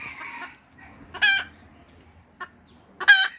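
A mother hen calls to her chicks in short, loud, close bursts of clucking and squawking, with quiet gaps and soft low clucks between the calls.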